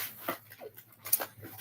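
Puppies whine and whimper close by, a few short high-pitched cries in quick succession with brief gaps between, no talk over them.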